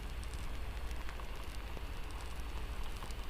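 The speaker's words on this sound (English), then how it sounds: "The rain outside continues its rhythm, but here it becomes background music, a soft, soothing layer of sound" Steady rain falls outside a cabin as a dense, even hiss with soft pattering, continuous and fairly quiet, with no voices.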